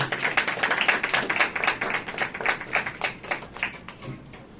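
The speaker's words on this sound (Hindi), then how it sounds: "तालियां जो भाई, तालियां जो।" A church congregation claps in quick, uneven bursts of close, crisp hand claps that swell and fade across several seconds before thinning out.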